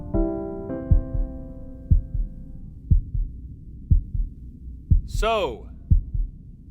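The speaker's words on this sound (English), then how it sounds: "My heartbeat's taking over the music?" Slow, steady heartbeat thumps from the game Before Your Eyes, deep low pulses about once per second over a fading musical tone, with a brief voice briefly speaking midway.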